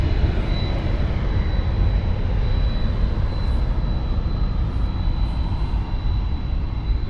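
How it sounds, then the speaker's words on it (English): An Air Canada Airbus A320 jet at Toronto Pearson thunders nearby, a loud, sustained engine roar holding steady throughout with a faint high whine riding on top and no voices. "We're going to be getting Air Canada going to Chicago. Airbus 320."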